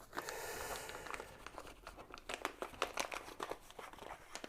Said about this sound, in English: So you again fold your tea bag,